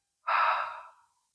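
A single soft breath is audibly exhaled up close, rising quickly and trailing off slowly during a guided meditation.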